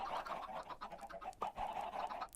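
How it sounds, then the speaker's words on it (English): Minecraft chickens clucking in a steady, fairly quiet string of short calls, one call a little louder near the middle, with no voices. "So many chickens."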